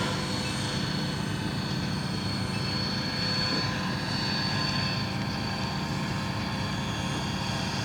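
A model Sikorsky HUS-1 Seahorse helicopter flies with a constant whirring rotor and a high motor whine, steady and continuous throughout at close range, with no voices.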